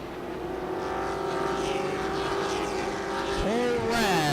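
Super trucks race around Tucson Speedway, their engines droning steadily, with a sharp pitch sweep near the end as one passes close. A race commentator talks over the noise.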